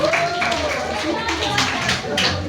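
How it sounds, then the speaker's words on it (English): Clapping from a classroom audience for a student group, brisk and continuous for a couple of seconds. It is mixed with voices and chatter in the room. "Okay, please give them a round of applause."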